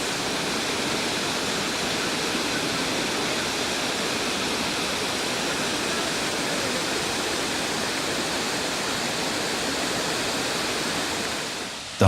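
Steady rushing of water at a forest waterhole where honey hunters wash off sticky honey, a continuous broadband wash that holds even throughout without pauses or voices.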